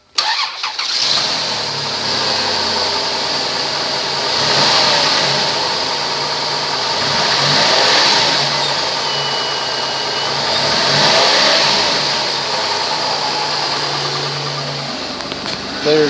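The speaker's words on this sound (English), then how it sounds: "2005 Chrysler Town and Country, mileage 165 to 24, engine run video." A 2005 Chrysler Town and Country minivan engine cranks, catches and runs, settling into a steady idle with several slow rises in revs, recorded close by with a persistent high whine and no talking.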